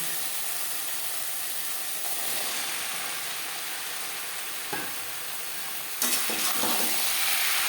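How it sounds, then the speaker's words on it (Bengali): Masala with onion and tomato being stirred and fried in a pan for a silver carp curry, giving a loud, continuous close sizzle with occasional scraping stir strokes that flare up near the end. "মশলা পেঁয়াজ টমেটোর সাথে বেশ ভালো করে মিক্স করে দেবো। 2-3 মিনিট নাড়াচাড়া করে নেওয়ার পর দিয়ে দেবো আলু।"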